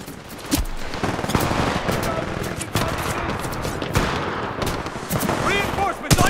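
Video game gunfire: rapid bursts of shots and automatic fire crackling throughout, close and fairly loud, mixed with shouting voices and game sounds.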